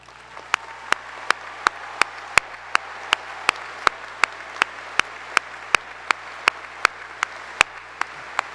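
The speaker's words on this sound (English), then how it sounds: "If the North High teachers could please stand and be honored with a round of applause" At a 2019 Fort Zumwalt North High School graduation ceremony, a large audience keeps up an even wash of applause for the teachers, with sharp, evenly spaced clicks punctuating it.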